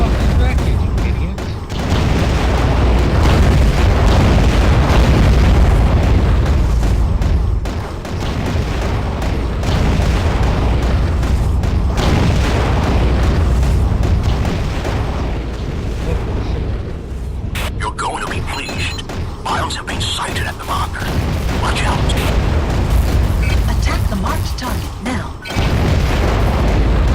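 Deep, rumbling underwater explosions from wreckage bombardment in AquaNox, a near-continuous heavy roar with repeated booms and brief dips, with a voice speaking at points.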